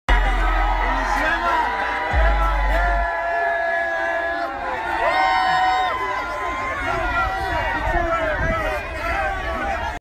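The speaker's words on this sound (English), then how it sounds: "he greeted the crowd that was waiting for him to leave" A crowd waiting outside after the Golden State Warriors won the 2017 NBA Finals cheers and whoops for Draymond Green, a dense, continuous mix of shouts and babble close by.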